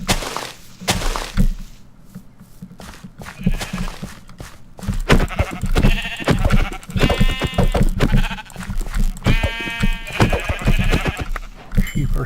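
Sheep bleating repeatedly, several loud wavering bleats close by amid cracking and thumping noises in a game setting.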